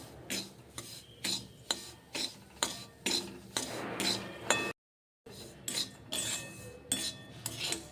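Semolina roasting in ghee is stirred in a pan with a spoon, giving rhythmic gritty scrapes and light metallic clinks about twice a second, close up, with one brief silent break midway.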